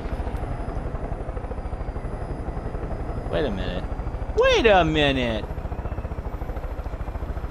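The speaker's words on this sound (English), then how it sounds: "Oh shit, I'm in a chopper." A helicopter in Far Cry 5 churns out a steady, close rotor thump throughout, while a voice briefly exclaims over it.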